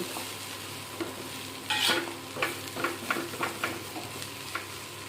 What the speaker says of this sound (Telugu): ఈ కలర్ వచ్చే వరకు వేయించుకుంటే సరిపోతుందండి